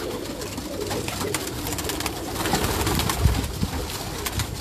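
Pigeons coo on a rooftop, their low throaty calls repeating over a steady murmur of outdoor background noise.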